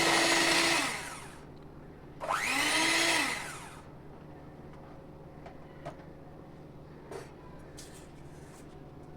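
An electric mixer whirs in two loud bursts as two ingredients are beaten together for bakery-style butter biscuits, its pitch rising as it starts up, followed by quiet kitchen clatter.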